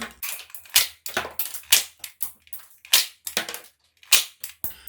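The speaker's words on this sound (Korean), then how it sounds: "탄알이 나가고 탄피가 튀는 실총 메커니즘 비슷한 느낌이 되죠?" A budget VP9 SK toy pistol fires rapidly with a series of sharp, close snapping shots and mechanical clacks as it launches plastic bullets and ejects cartridge casings, about a dozen bursts in quick irregular succession.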